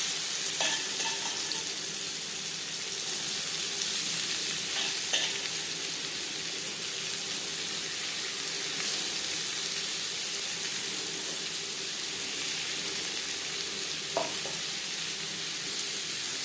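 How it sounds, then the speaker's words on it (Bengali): Chopped onions frying in hot oil left over from frying eggs for egg curry, a continuous even sizzle with a few faint utensil taps. "ডিম ভেজে নেওয়া তেলে দিয়ে দেবো পেঁয়াজ কুচি।"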